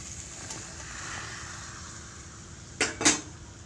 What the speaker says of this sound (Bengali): আর আমি দিয়ে দিচ্ছি সয়াবিন